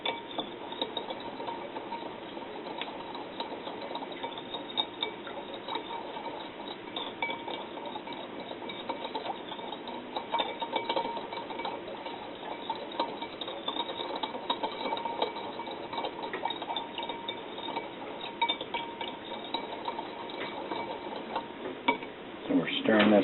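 A spoon stirs vinaigrette in a bowl to emulsify it, producing a steady, faint run of soft scraping and light clinks that continues for a long stretch.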